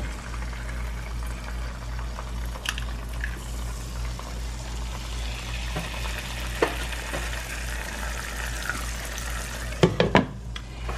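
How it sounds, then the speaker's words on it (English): Butter browning in a pan for sausage truffles, with a steady close sizzle and fine bubbling throughout and a few sharper crackles and clinks near the end. "See how it just stops over bubbling, and then this aroma hits, and you know you got your butter browned"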